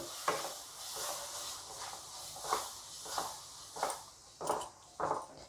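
Besan is stirred with condensed milk in a pan, a rhythmic series of soft scraping strokes roughly every half second over a faint sizzle.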